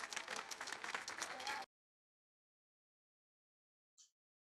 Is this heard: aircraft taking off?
no